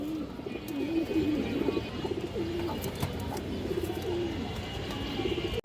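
Chini Kaldom pigeons coo in low, soft, continuous rolling murmurs close by, several birds overlapping steadily with a faint hiss in the background.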